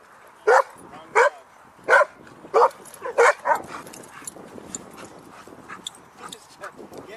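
Several dogs bark in a series of sharp, loud yaps at an outdoor dog park, about six barks in the first few seconds, followed by fainter scattered yips amid background chatter from people.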